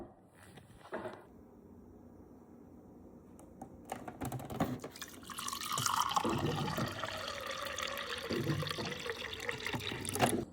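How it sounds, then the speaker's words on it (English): Water poured for drinking: after a few clicks and taps, a steady liquid pour swells into a splashing fill that lasts several seconds, close and fairly clear, with no talking. "come with me to hydrate this morning because I haven't had any water yet"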